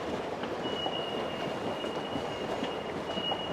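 A Tokyo Marunouchi line subway train rumbles loudly and steadily, with a thin high wheel squeal drawn out above the roar and no talking.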